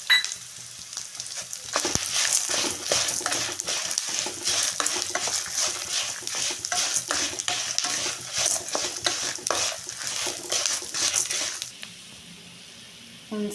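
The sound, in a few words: frying dried chillies, cumin and pepper in a pan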